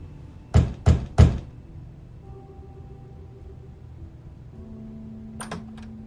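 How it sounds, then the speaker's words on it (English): Three firm, evenly spaced knocks on a wooden door in The Wolf Among Us, loud and close, followed by quiet room tone and a faint click or two near the end. "You're just going around knocking on doors?"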